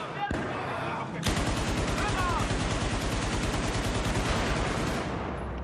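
Sustained rapid gunfire in the video game Battlefield 4, loud and dense with a steady automatic rhythm after a short burst at the start, continuing without a break.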